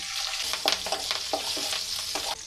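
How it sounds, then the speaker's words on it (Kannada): Mustard seeds crackle and splutter in hot oil with curry leaves and slit green chillies, a dense steady sizzle punctuated by sharp pops at irregular intervals, close and alone with no talk. "ಇದನ್ನು ಸಾಸಿವೆ ಹೊಡ್ತಾ ಇದೆ"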